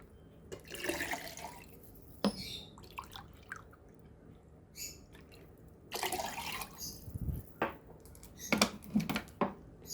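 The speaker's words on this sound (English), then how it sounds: "add 2 cups of" Water poured into a pot holding olive oil and salt to make sauce for vine leaves stuffed with rice and vegetables. Splashing and dripping come in short, uneven bursts, with quieter gaps between them.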